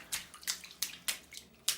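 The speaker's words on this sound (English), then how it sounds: "we have a lot of water dripping out of here" Water drips steadily from a cracked structure at a beach, about six soft, distinct drops and splashes falling at uneven intervals, faint and close with no other sound.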